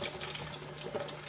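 Watermelon sorbet mixture is poured into a plastic storage box, making a steady, continuous splashing trickle of liquid at close range with no talking.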